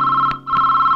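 A telephone rings in a steady electronic trill that breaks briefly partway through and then resumes, heard alone with no talk.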